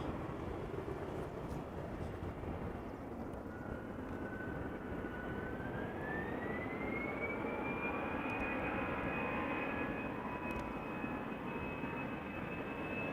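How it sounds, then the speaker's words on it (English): A KLM Embraer 190 jet departs Schiphol airport, a steady distant engine roar with a rising whine that climbs and holds, heard alone at moderate level. "Embraer 190 flying for KLM going to Newcastle."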